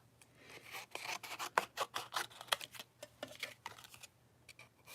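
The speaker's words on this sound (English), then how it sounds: "let's just go ahead and cut them out" Scissors cut out paper shapes for a donut shaker card, giving a rapid series of crisp snipping and rasping strokes, close and fairly quiet, with no talk.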